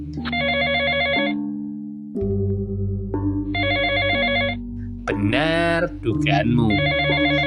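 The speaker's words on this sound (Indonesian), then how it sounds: "Telepon berdering dan dengan cepat kamu angkat." A telephone rings in repeated trilling bursts, loud and close, over a low droning tone, with a brief spoken voice breaking in between rings.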